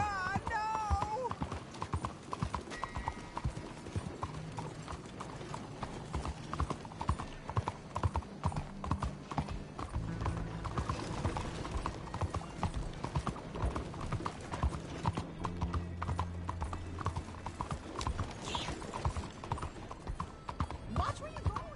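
A horse's hooves clip-clop steadily at a walking pace through a Red Dead Redemption 2 town, continuing throughout at moderate level, with a brief whinny and game characters talking over the hoofbeats.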